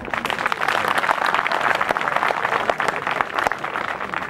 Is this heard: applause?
yes